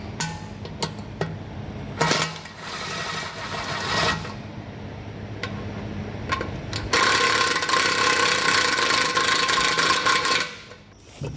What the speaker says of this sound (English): Let's just make this easy and break out the drill.